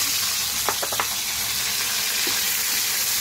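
Garlic and tomato sautéing in a hot pan give a steady, loud sizzle throughout, with a few sharp crackles and pops near the start.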